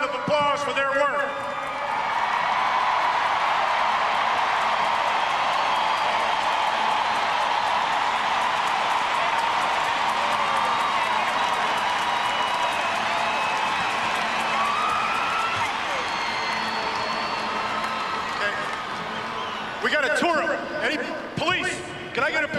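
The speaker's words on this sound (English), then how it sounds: "let's give these coaches a round of applause for their work" A large crowd at the 2005 San Antonio Spurs NBA championship celebration cheers and applauds the coaches in a dense, roaring wash that holds for nearly twenty seconds before breaking off into scattered noise and voices.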